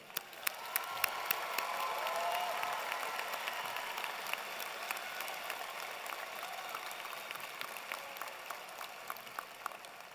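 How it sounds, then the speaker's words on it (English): A graduation audience applauds new engineering alumni of the Cullen College of Engineering, a broad wash of clapping across a large hall that swells early, then settles into a softer, steady patter with scattered sharper claps. "Everyone, please join me in a round of applause for our newest alumni of the Cullen"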